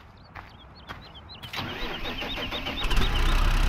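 A tractor engine starts up in Farming Simulator 15: a few soft clicks, then a cranking catch at about 1.5 s settles into a steady, rising idle rumble that grows louder to the end, with no one speaking.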